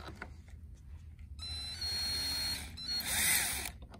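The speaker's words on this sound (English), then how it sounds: "I'll put the screw on with the drill, the handy drill I've got." A handheld power drill whirs in short bursts, rising and falling in pitch as it drives a screw into a bass boat, close by with no talking.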